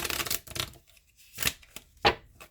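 Someone shuffles a deck of tarot cards close by, with several quick papery riffles and slaps separated by short quiet pauses.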